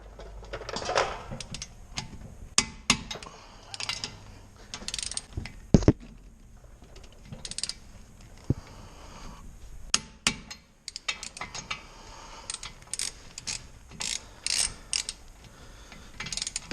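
Ratchet tightening lug nuts while a wheel goes back onto a Subaru STi after a rotor job, irregular bursts of sharp metallic clicking and clacks with short pauses, close and fairly loud.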